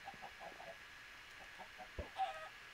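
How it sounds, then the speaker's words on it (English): Chickens in the video game Minecraft, on the PhoenixCraft server, give short, faint clucks scattered through the moment, with a soft thump near the end. "So he threw chickens in here."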